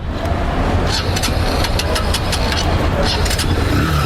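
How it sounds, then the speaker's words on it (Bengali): A used motorcycle with roughly 28,000 km on it runs close by, its engine giving a loud, steady, even drone with faint ticking on top for the whole stretch. "কিন্তু গাড়ির সাউন্ড দেখেন, এত চমৎকার সাউন্ড"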